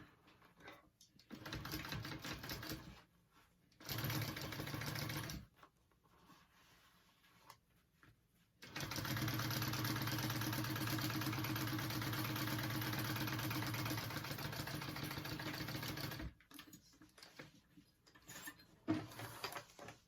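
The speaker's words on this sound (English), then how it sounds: "we're just gonna top stitch that." Sewing machine top-stitching a vinyl sling backpack, running in bursts: two short runs, then a long steady stretch of about eight seconds, with quiet handling between.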